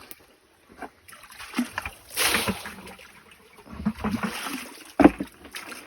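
Water is scooped and tipped out with a small bucket to drain a pond while catching shrimp, giving scattered splashes and sloshes in bursts, with one sharp splash near the end and quiet gaps between.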